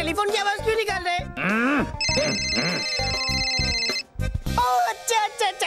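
A man mimics a ringing telephone with his voice, producing steady electronic-style trilling tones, while other voices talk before and after in a comedic TV scene.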